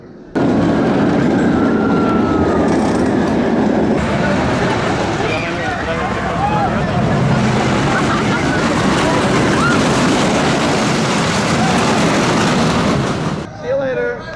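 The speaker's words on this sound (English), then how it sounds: "Here we are on Superman Ride of Steel up at Six Flags America, and this is one of the very first Intamin hypercoasters" Riding Superman Ride of Steel, an Intamin hypercoaster at Six Flags America, with loud continuous wind roar and rumbling track noise throughout, rattling wheels and faint shouts mixed in.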